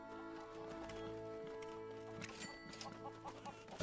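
Chickens cluck in the Lego Worlds video game, a string of short fowl calls over a steady game music bed, fairly close and moderately loud throughout.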